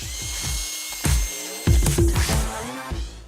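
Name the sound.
power drill drilling into dense shale rock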